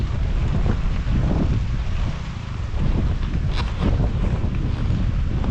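Strong cold amihan wind blowing across an outdoor string bean garden, a steady loud roar buffeting the microphone with gusty rumble throughout and a brief lull midway.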